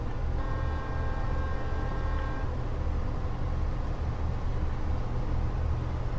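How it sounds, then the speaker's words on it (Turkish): Horn of an old city bus in the City Car Driving game, a steady tonal honk near the start over continuous engine and road rumble, with no speech. "korna iyiymiş"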